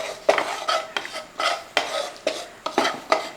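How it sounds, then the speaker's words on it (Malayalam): Spice powder dry-roasts in a pan without oil for a Kerala potato masala curry, a spoon stirring and scraping in steady, repeated strokes, close and clear with no talking. "ഈ പൊടിയുടെ പച്ചച്ചവ മാറുന്നതിനും വരെ ഒന്ന് ഇളക്കി കൊടുക്കും."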